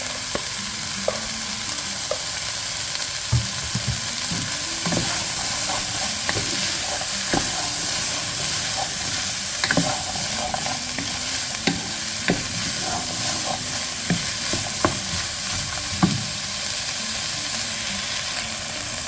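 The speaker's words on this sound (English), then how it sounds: "Fry that off a little bit. And then we're going to add our carrots." Carrots sizzling in a pot with garlic for a smoked chicken and vegetable soup, a loud, steady frying hiss broken by repeated spoon scrapes and clinks as they are stirred, with nobody talking.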